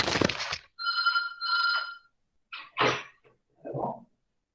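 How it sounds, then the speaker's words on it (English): A telephone rings in two short, even bursts in a quiet room, with a thump before and some handling noises after. "one phone call is there"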